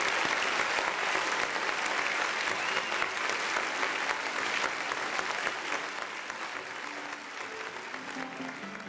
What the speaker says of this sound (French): On va applaudir la surprise, s'il vous plaît.